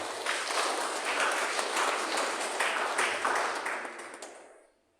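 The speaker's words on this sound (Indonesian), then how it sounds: "Kita tepuk tangan dulu untuk hari ini." A church congregation at a Salvation Army Sunday service in Bandung claps hands together, a dense, even wash of many claps that holds steady and then fades out quickly near the end.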